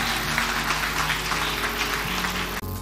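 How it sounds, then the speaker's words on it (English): A church congregation claps in praise during a deliverance service, continuous even clapping over a droning background hum, cutting off briefly near the end. "Clap for Jesus."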